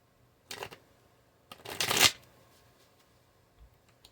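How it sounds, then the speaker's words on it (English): Tarot cards shuffled by hand in a quiet room, two quick riffling bursts, the second longer and louder, followed by a faint soft tap. "Actually, I'm being guided to shuffle like this."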